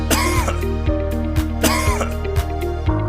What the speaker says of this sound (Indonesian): Pada tarikan napas ketiga, langsung lanjutkan ke batuk efektif.